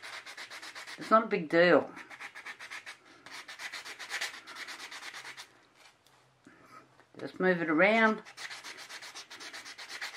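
Resin pieces being sanded by hand after deburring, making steady scratchy rubbing strokes in two louder bursts amid continuous softer scraping, with a person talking over much of it.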